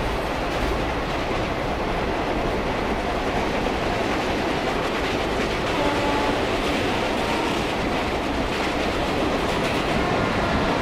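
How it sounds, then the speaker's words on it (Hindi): A simulated Indian express train in a rail simulator game rumbles steadily, with a dense, continuous roar of wheels and rail noise and faint rhythmic clatter, holding a constant loud level throughout with no voices. "आई थिंक गाइस कोई और ट्रेन भी हमारी तरफ आ रही है अब"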